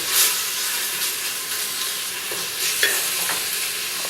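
Bacon for feijoada sizzles steadily in a pan, a loud, close, continuous hiss and crackle with occasional stirring scrapes.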